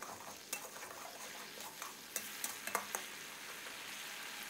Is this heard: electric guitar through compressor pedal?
no